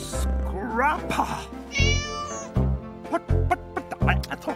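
A cartoon cat meows several times in a row, loud and close, amid busy animated-cartoon music and effects, with voices exclaiming around it.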